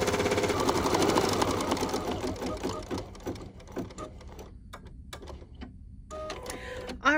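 A Husqvarna Viking 880 Crystal Edition embroidery machine stitches out a design in a rapid, steady mechanical chatter that is loud at first, then thins into intermittent bursts and pauses toward the end.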